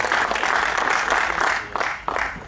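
Audience applause at a Hindi poetry recital during a Holi gathering, a loud dense burst of clapping from a crowd lasting a couple of seconds with slight swells, then tapering.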